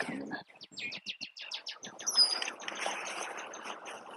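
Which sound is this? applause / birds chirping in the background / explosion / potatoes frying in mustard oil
birds chirping in the background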